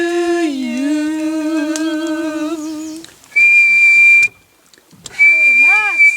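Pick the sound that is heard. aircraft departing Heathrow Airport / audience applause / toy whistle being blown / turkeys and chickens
toy whistle being blown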